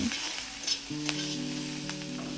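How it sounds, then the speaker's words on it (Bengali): Coarsely chopped onion, garlic and ginger fry in hot oil for a fish stew, a close, continuous crackling sizzle with a few stirring clicks and a low steady hum behind it. "পেঁয়াজ রসুন আদা এক মিনিট মতো ভেজে নেবো"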